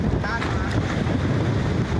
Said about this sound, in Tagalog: Kahit malakas ang alon mga kapisig.